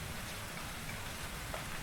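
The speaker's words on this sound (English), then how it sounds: "Maybe there's a background sound of rain" AI-generated rain ambience: a steady, even hiss of rainfall on a surface, continuous and fairly close, with no voices or other sounds over it.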